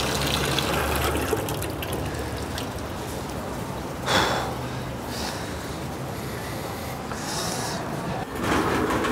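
Tap water runs steadily in a back alley while dishes are washed, a loud close gushing stream with a few brief splashes and clatters on top.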